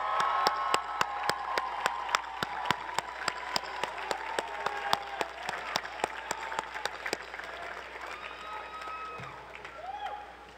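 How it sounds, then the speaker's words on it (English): An audience applauding guests at a gathering, with steady spaced claps ringing out over a soft crowd murmur that fades near the end. "Turn around, applaud them."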